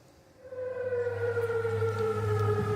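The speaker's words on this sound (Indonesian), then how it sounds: "Sirine meraung di kota aman saat angkatan bersenjata Yordania mencegat serangan rudal Iran." An air raid siren wails over Amman during an Iranian missile attack, rising after a quiet start into a loud, steady drone that holds and slowly drifts in pitch, with no voices.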